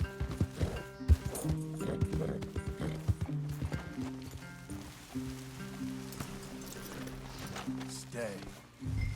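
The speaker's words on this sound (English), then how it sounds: "Leave the horses in the trees there." Horses in Red Dead Redemption 2 clip-clop on a rainy ground with hoof thuds and faint snorts, set close under game dialogue and background music.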